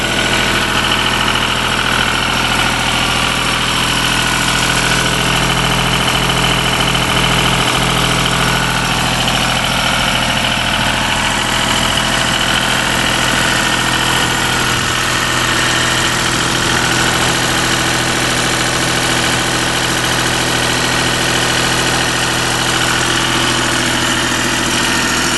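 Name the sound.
diesel generator engine idling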